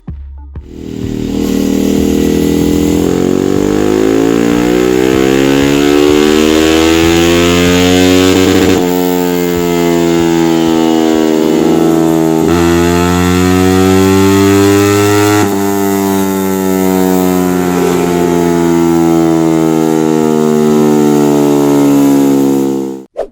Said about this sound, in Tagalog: makikita nyo na sinisimulan na i-testing yung motor